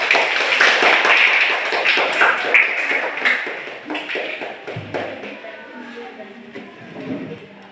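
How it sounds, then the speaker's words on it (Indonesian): A classroom group claps for group 3, a burst of brisk, loud hand clapping that thins out into scattered claps and fades away over several seconds. "Kita beri aplaus untuk kelompok 3"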